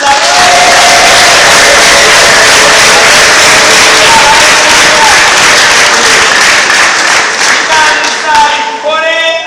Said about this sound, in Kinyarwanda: Tuyihe amashyi Imana